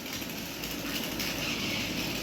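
Toy train starting to run, a continuous whirring motor hum with a faint rattle, steady and fairly quiet, with no voices.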